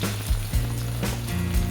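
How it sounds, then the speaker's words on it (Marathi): Onion hitting hot oil in a pan for Maharashtrian smoky eggplant bharit, a steady close sizzle with low bubbling and a few soft thumps from stirring, with no voices. "आपण आता कांदा टाकून घेणार आहोत। त्या तेलामध्ये"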